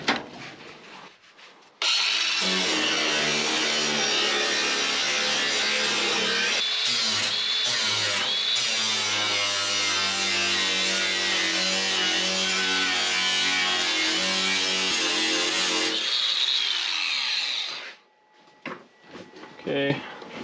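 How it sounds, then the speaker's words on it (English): An angle grinder works down metal on a 1955 Chevy Nomad tailgate, a loud, continuous close-up grinding whine with shifting pitch that starts abruptly, runs about fifteen seconds, then winds down into quieter handling noises. "So I'm going to grind this down."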